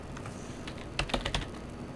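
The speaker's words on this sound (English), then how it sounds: "apparently I'm not typing even at my poor normal" Typing on a computer keyboard, soft at first and then a quick cluster of louder key clicks near the middle, close and alone without talk.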